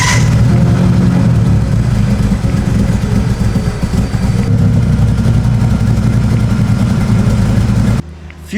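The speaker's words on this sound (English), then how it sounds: "Let's try to start up the car." Proton car engine after a high-flow fuel pump install, running loud and close with a rough, steady roar and slight revving fluctuations for about eight seconds before cutting off abruptly.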